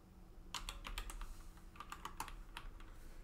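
Typing on a computer keyboard: quick clusters of light key clicks in two short runs over a low steady background hum, fairly quiet and close, no one talking.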